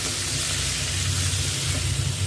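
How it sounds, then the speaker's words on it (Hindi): Spices such as Kashmiri red chilli powder and salt roast in a pan over a low flame, giving a soft, steady sizzle and hiss. There is a low hum underneath, and no one talks. "सभी को हम भून ले रहे हैं लो फ्लेम में।"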